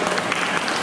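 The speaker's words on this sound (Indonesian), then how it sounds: "Terima kasih sekali lagi tepuk tangan yang meriah untuk" An audience at a family finance workshop claps for the speaker in a dense, continuous burst of close applause that fills the whole moment.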